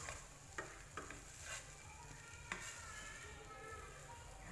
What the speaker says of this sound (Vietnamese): mình lật lên này, mình chiên lửa rất là nhỏ